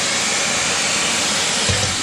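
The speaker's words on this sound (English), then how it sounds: "The chaser's plugged in to the power. Once I turn this on, the hoover goes." A vacuum hoover attached to a Titan wall chaser for concrete cutting runs with a loud, steady, close rushing drone that stays unbroken throughout, with no talking.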